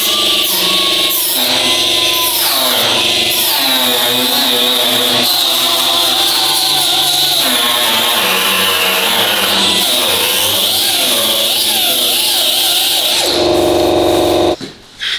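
An angle grinder whines loudly and steadily against the metal of a BMW E36 M3, its high-pitched tone wavering as pressure shifts, before cutting out at the end.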